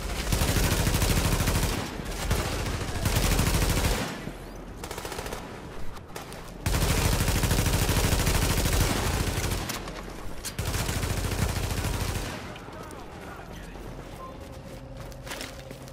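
Bursts of automatic gunfire from The Division video game erupt loud and close in several long volleys separated by brief pauses, with scattered footsteps between them.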